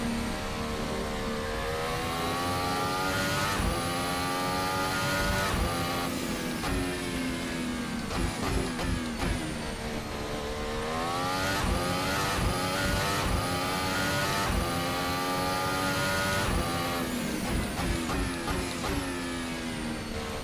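Engine of the RSS Formula Hybrid 2018 open-wheel racing car in a racing video game, revving loud and close with rising and falling harmonic sweeps up toward a 13,000 RPM redline, continuous and alone without speech.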